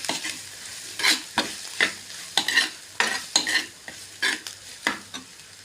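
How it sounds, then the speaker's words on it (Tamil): Grated plantain being stir-fried in a pan for poriyal: a spatula scrapes and tosses in repeated sharp strokes over a soft steady sizzle, close and loud, with no voice. "துருவி வச்சுருக்கிற வாழைக்காய் போட்டுக்கலாம். எல்லாம் போட்டு நல்லா போட்டு மிக்ஸ் பண்ணி விட்டுக்கலாங்க."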